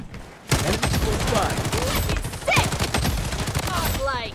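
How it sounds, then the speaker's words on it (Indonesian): Shotgun firing in the mobile shooter Blood Strike, a rapid stream of loud, dense gunshots from close by, with a stronger blast partway through and a voice talking over the gunfire. "Aduh, itu shotgunnya darder-darder."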